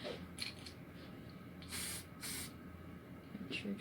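Two short hissing bursts of spray from an aerosol can, close by, with quiet rustling and handling noises around them.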